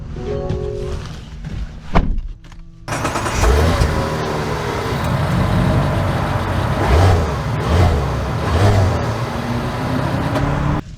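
A 2024 Mazda CX-90 Turbo S pulls away, with a door thunk followed by a steady, rising engine and road hum heard from inside the cabin as it accelerates.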